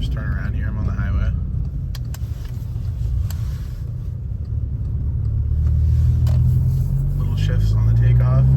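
A Volkswagen Tiguan with a DSG gearbox cruises on the highway, its steady low road and engine rumble swelling slightly toward the end, with a person talking over it throughout.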